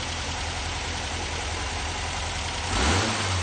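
Newly installed engine in a 1964 VW Bus idling at a garage, a steady close mechanical chug with a brief rev swelling near the end.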